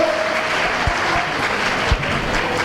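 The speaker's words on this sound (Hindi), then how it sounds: "एक बार दोनों हाथ खोल के मन से जोरदार तालियां बजा दीजिएगा।" Audience applause at a Hindi poetry recital festival, dense continuous clapping from a crowd, steady and loud across the whole stretch with a few low thumps.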